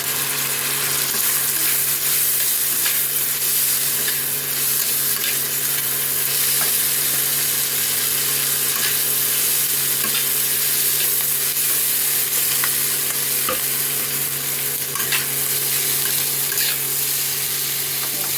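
Pasta dropped into a pan and stir-fried for chilli pasta, a loud, steady, close sizzle of frying with faint scraping and stirring clicks running through it and no talking.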